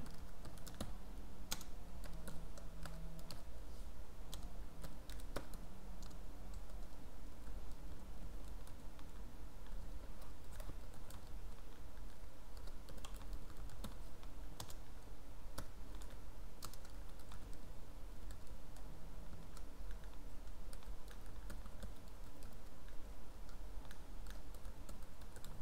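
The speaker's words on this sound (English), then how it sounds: "So I'm going to open the terminal and type docker run." Typing on a computer keyboard at a terminal, a long run of quick, light key clicks in uneven bursts over a steady background hum.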